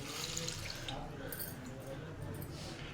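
Water splashes and trickles as it is poured onto skinned fish with turmeric powder in a cooking pot, a steady moderate pour heard up close.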